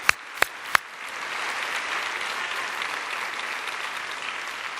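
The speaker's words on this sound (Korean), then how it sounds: "우리 하나님께 감사의 영광의 박수 올려드리기 원합니다" At a 2010 Korean church healing service, a congregation breaks into sustained, even applause after three sharp, separate knocks at the start, and the clapping fills the room at a steady level.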